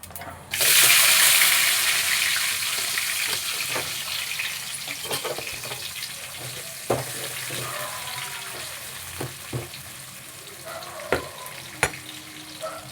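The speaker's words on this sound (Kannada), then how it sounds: "ಈರುಳ್ಳಿ ಫ್ರೈ ಆಗಲಿ" Onion hits hot oil in a pan for mint rice, with a sudden loud sizzle that settles into a steady frying hiss, broken by a few sharp clinks of stirring near the end.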